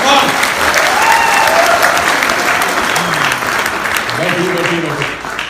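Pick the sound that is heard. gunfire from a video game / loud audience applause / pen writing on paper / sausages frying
loud audience applause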